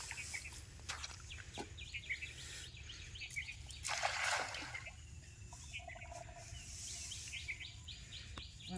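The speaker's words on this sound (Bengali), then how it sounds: "এই জঙ্গলে প্রচুর মুরগির ডাক শোনা যাচ্ছে" Chickens calling in a jungle, with repeated clucks and crowing-like calls scattered throughout, set against dense insect and bird chirping and a steady low background hum.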